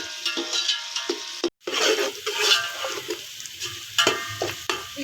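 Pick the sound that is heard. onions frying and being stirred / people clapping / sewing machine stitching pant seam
onions frying and being stirred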